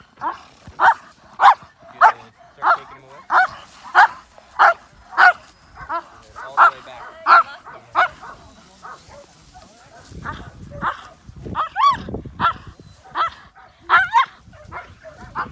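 A trained scent detection dog barks repeatedly in a steady rhythm, loud and close, with a few whimpers mixed in, while people talk briefly over it.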